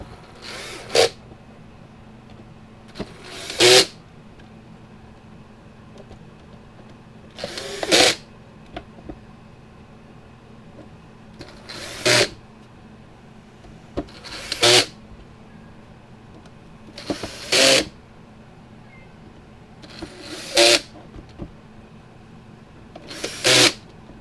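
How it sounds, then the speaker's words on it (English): Short whirring bursts of a powered driver with an Allen head bit tightening screws inside a Gallagher W210 weigh scale indicator, about eight brief runs spaced a few seconds apart, close and fairly loud over a quiet room. "we'll get the Allen head. Now we'll go through and tighten these up"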